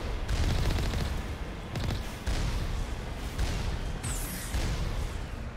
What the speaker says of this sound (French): C'est mignon, ça tire les roquettes.